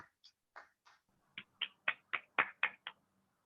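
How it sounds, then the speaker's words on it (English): Sparse, quiet hand claps from a small audience at a women's stand-up comedy show, roughly a dozen separate claps that grow slightly quicker and louder before stopping. "another round of applause for Yael"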